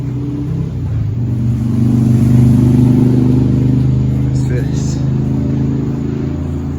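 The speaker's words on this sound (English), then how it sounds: "the motorcycles were loud today" Loud motorcycles rumble past near a historic cemetery in East Kentucky, a steady, heavy engine drone that swells toward the middle and stays strong throughout, with no gaps.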